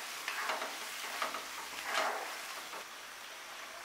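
Egg chowmein noodles with tomato sauce are stirred in a pan for Kolkata-style street food, giving soft scraping and sizzling swells that rise and fall a few times over a low frying hiss.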